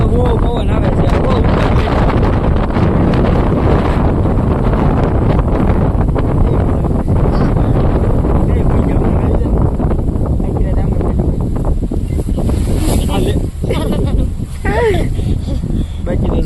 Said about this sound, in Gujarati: ત્યારે તો બહુ પવન આવે છે બહુ